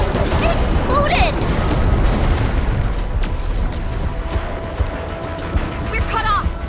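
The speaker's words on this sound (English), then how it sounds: "Hurry through! It exploded!" A deep boom rolls out from an explosion in Arknights Endfield, followed by rumbling debris and scattered crackling bursts, loud and close, with voices talking over the blast.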